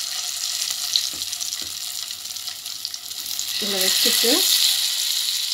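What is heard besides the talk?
Sankara fish frying in hot oil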